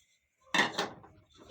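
Cashews and melon seeds are tipped into a cooking pan while rice-and-jaggery pinni is being made, giving a short close clatter and scattered rattle after a moment of quiet.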